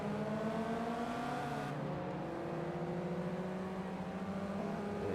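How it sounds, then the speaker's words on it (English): A race car fitted with a race exhaust in the video game Forza Motorsport 2, its engine droning steadily with shifting pitch as it accelerates, a continuous moderately loud tone with no talk. "Oh, it does sound different with race exhaust."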